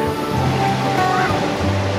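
Waves wash steadily onto a small beach beside a wooden deck at Pontal Norte in Balneário Camboriú, a loud, continuous rushing surf with a low rumble underneath and no clear speech.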